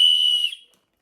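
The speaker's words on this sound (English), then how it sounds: "an emergency whistle" An emergency whistle gives a single sharp, shrill blast of about half a second, loud and close, then stops abruptly into silence.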